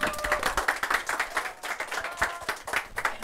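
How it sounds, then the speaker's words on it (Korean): Audience at a youth conference applauds to welcome a student speaker, a moderately distant, steady patter of many hands with a few sharper individual claps, no speech over it. "큰 박수로 맞이해주세요."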